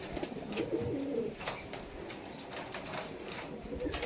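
Kamagar high-flying Pakistani pigeons on a rooftop give soft, low coos amid a faint, steady background hiss, with occasional flutters.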